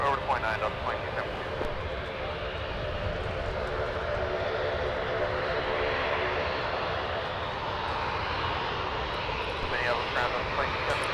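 A jet airliner at Minneapolis–Saint Paul airport gives off a steady, broad engine roar that holds level through the whole stretch, with people talking over it.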